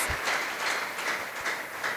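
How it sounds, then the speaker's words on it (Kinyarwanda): A church congregation claps hands together in a steady rhythm of distinct beats, close and moderately loud. "Clap for your hands."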